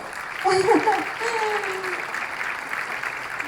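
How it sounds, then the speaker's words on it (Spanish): Applause from an audience after a presentation at a China–Colombia dialogue event, a steady burst of clapping that swells early and then carries on evenly, with a voice speaking over it. "Creo que se merece un aplauso esa presentación"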